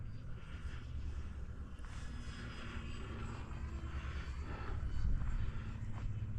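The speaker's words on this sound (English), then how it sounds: "I like flying this plane a lot." An E-flite Valiant RC plane flies in gusty, shifting winds over 15, its motor droning steadily amid heavy wind buffeting, holding a constant moderate level with a slight swell near the end.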